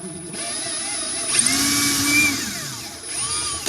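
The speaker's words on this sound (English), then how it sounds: "Just gonna finish drilling out this hole." A power drill whirs loudly up close, its motor whine rising and dipping in pitch as it bores, with a couple of brief knocks.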